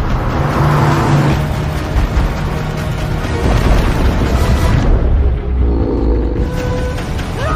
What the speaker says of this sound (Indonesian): Nora kemudian menyalakan mesin mobil dan ketegangan pun akan segera dimulai